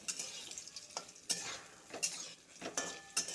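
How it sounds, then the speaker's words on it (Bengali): Small lentil fritters fry in hot oil in a pan, sizzling under repeated sharp scrapes and clinks of a spatula as they are stirred and turned. "তেল গরম হয়ে গেছে, আলু যে সাইজের কেটেছি ওই সাইজের বড়াগুলো ভেজে নিব ছোটো ছোটো করে"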